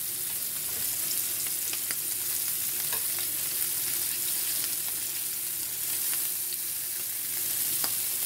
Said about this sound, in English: I'm just browning them for now. So just let them kind of simmer and keep turning them around a little bit.